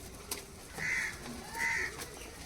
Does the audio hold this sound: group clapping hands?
no